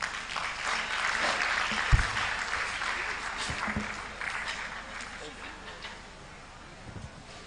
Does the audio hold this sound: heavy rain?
no